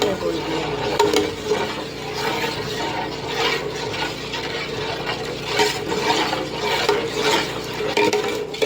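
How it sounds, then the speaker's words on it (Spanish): Ground beans being stirred steadily in a pot, a continuous soft scraping and bubbling that runs close and fairly loud throughout, mixed with faint sizzling. "Revolvemos muy bien constantemente para evitar que el frijol se pegue entre sí y se hagan grumos."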